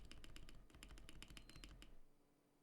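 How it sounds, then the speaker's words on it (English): Rapid typing on a mechanical computer keyboard, with crisp keystrokes and occasional heavier spacebar presses, close and fairly quiet, stopping abruptly near the end. "The spacebar is usually the loudest one."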